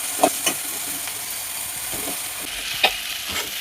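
Okra (bhindi) fries in a pan for a prawn and egg curry with a constant soft sizzle, punctuated by a few sharp clinks and scrapes of a spoon stirring against the metal.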